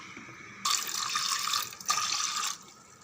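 Running tap water splashes onto green gram lentils being washed in a kitchen, two bright gushing bursts separated by a brief dip, close and fairly loud.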